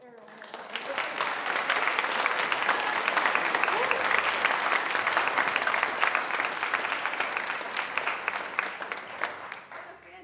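Concert audience applauding a wind ensemble, a dense wash of clapping that swells in, holds steady for several seconds, then tapers off near the end, with faint voices mixed in.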